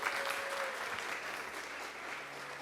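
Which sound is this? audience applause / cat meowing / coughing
audience applause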